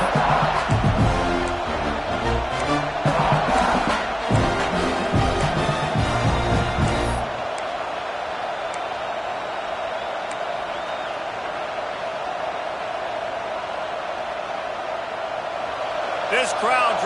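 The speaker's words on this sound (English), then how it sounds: "This crowd trying to make life miserable for this offense." A football stadium crowd at a Georgia game roars against the offense, a loud broad wash of noise with sharp bursts early on, settling into a sustained rumble under a commentator's talk.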